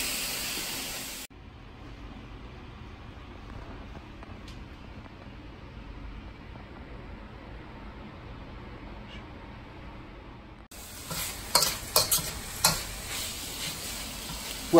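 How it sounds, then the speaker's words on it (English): A beef and noodle stir-fry sizzles in a wok, loud at the start and again at the end with a few clattering knocks, while a long stretch between stays very faint. "we are going to let this cook for about 3 to 4 minutes until our noodles are done"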